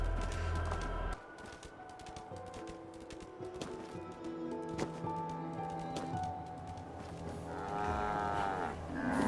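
A two-headed brahmin cow in Fallout 4 lets out a long, drawn-out moo over game ambience, clear and fairly close, followed by a lower rumbling bellow near the end.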